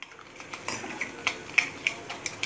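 A spoon clinking against a bowl while mixing Russian salad ingredients, about nine light rhythmic taps over soft scraping, close and fairly quiet, no talk.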